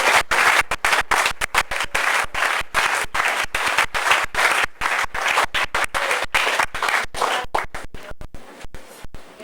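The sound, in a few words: congregation applauding during sermon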